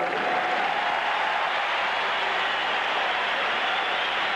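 A large stadium crowd applauds and cheers for Mel Renfro at a 1981 Cowboys football game, a steady, distant roar of clapping and voices that holds evenly throughout.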